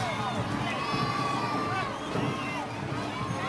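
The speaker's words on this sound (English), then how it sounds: "that crowd's getting lively down there, Bob." Mardi Gras Day parade crowd of 1990, heard from a rooftop: a dense, steady roar of cheering and shouting voices, with whistles and excited cries rising over the continuous din.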